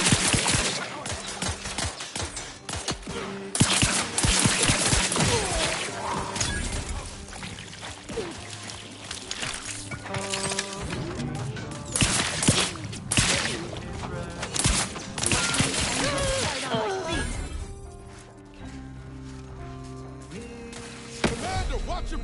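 Dense, rapid gunfire from a combat encounter in the video game Outer Worlds 2, with repeated sharp bursts and volleys layered over music and effects. The shots keep up loud and steady for most of the stretch, then thin out near the end.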